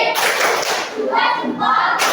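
A group gives a rhythmic salute clap (tepuk salut) in a classroom, a loud burst of clapping with a brief pause and then more clapping, close by.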